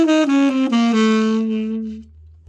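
A saxophone plays a brief diminished-scale run of a few notes stepping downward, with a bright, reedy tone that sustains and then fades out, solo with no talking.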